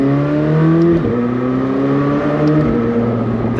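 A McLaren 765 race car with 765 horsepower revs hard under acceleration, its loud, close engine tone climbing and dropping back at gear shifts, heard from inside the cabin.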